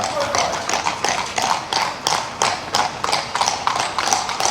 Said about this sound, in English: Have we ever seen horse and carts on any of our videos before, Phil?